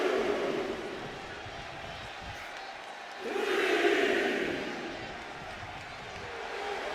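Arena crowd noise from the WWE 2K25 wrestling video game, a steady roar that swells into louder cheering midway, then settles back, with no talk over it.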